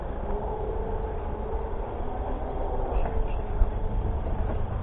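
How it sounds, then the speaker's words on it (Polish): An Intercity passenger train rumbles steadily past a level crossing in Morąg, Poland, a continuous heavy roar with faint rattling and a brief clack near the end; no talking. "Przejechał Intercity Stańczyk"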